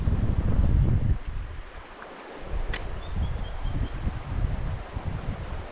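Wind blowing over the Howqua River during fly fishing, a steady rushing gust with a louder buffeting burst at the start.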